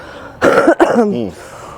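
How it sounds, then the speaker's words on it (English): A single loud, close cough from a person with a cold, with a rough throaty rasp, followed by a brief strained exhale. "I have just a horrible cough"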